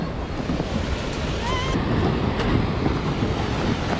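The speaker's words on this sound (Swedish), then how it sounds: "Det står... Sveriges största vattenfall." Tännforsen, Sweden's largest waterfall, roars as a loud, steady broadband rush of falling water that fills the whole stretch, with some wind noise on the microphone.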